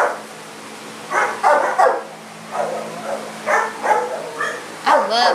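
A skinny pit bull–boxer type dog barks repeatedly in irregular bursts at a dog run, close and fairly loud over a steady low hum, with no talking.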